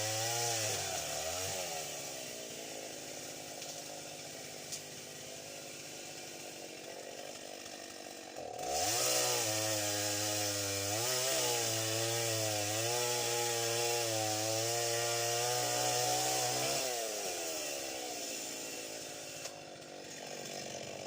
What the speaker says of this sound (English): it's really a pleasure to work with a chainsaw.